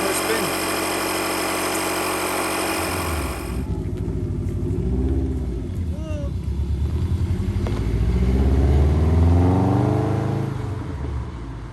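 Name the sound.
Subaru Impreza WRX engine running, misfiring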